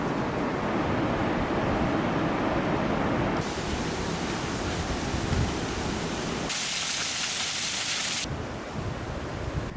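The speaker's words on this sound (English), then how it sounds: "with the roar of the waterfall growing louder at every turn" Roaring water from the Pailón del Diablo waterfall in Ecuador, heard on a jungle trail as a steady, broadband rushing that shifts in tone as the listener moves closer, with no talking.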